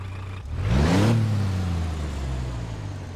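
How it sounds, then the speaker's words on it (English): A Brazilian-style Scania truck engine in American Truck Simulator revs up sharply, with its pitch climbing, then settles into a steady, deep drone. It is close and loud, with no talking. "that's the Brazilian style Scania from Slav Jerry"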